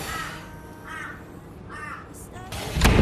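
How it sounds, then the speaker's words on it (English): A crow caws repeatedly outside, with three or four clear, harsh calls at a moderate distance, followed by a louder burst of noise at the end. "There's a crow outside."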